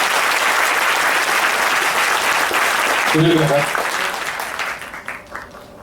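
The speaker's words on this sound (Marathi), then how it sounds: "सुधीर गाडगे आणि मंगलाताई यांच्यासाठी एकदा जोरदार टाळ्या झाल्या पाहिजे." An audience at a chat gathering applauds loudly for Sudhir Gadgil and Mangalatai, with sustained, dense clapping. Someone speaks over it briefly partway through before the applause tapers off.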